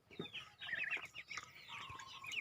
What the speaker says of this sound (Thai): วันนี้มาอัปเดตไก่กับเป็ดให้ดูนะครับ